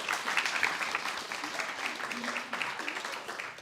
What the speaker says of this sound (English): So give yourselves a round of applause first before we get started here.